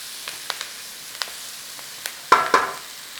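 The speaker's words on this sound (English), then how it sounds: "In there with our mince. Start to break it up. Start to cook it in there." Savoury minced meat frying in a pan for British mince and mash: scattered faint ticks and pops, then two loud sizzling bursts near the end as the mince goes in and is broken up.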